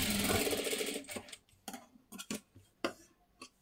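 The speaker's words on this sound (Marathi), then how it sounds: "आता इथे पूर्ण 5 नंबरची शिलाई मारून घ्यायची आहे." A sewing machine stitches a katori blouse, a steady whirring run for about a second, then a series of short ticking stitch bursts with pauses between them, close and alone.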